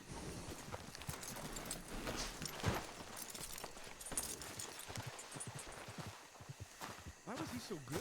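Horse hooves clip-clopping in an online roleplay video game, a steady rhythmic patter running under loud, continuous talk and laughter from players.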